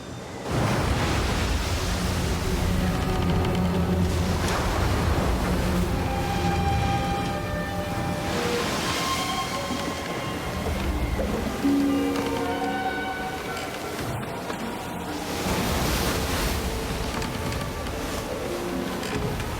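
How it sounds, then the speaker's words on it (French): Strong wind with rough, choppy lake water, a continuous broad rush that swells and fades like breaking waves, heard alone with no talking over it. "le vent soufflait fortement et la mer était agitée"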